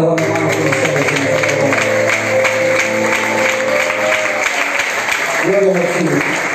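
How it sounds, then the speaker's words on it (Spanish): A church congregation at an evangelical service claps steadily and loudly. The clapping blends with music and a continuous wash of voices. "dile palmas a Dios"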